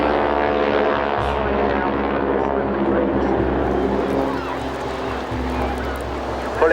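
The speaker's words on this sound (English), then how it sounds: "showing us the topside view as the aircraft goes round in a barrel roll" A propeller aircraft flies a barrel roll at the Clacton Air Show 2014, its engine droning with a steady harmonic hum and a slight wavering pitch as it turns.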